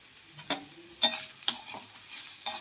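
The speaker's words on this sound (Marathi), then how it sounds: "आणि हे सगळं भाजून घ्यायचं आहे आपल्याला. थोडंसं तेल टाकून भाजून घ्यायचं आहे बघा" Onion, grated dry coconut, garlic and ginger being stirred and roasted in a little oil in a pan, heard as a few sharp spatula scrapes and clinks against the pan over a quiet, faint sizzle.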